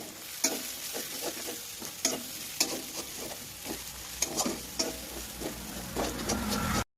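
A spatula stirs turmeric and chili powder into a sizzling prawn curry in a pan, with repeated scraping strokes and soft knocks over a constant frying hiss, close up and without talk.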